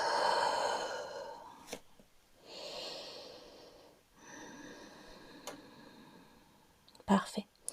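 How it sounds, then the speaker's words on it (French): Slow, airy breaths during a beginner shoulder yoga exercise: long audible inhales and exhales alternate near the mic, with a soft click or two in between. "On respire."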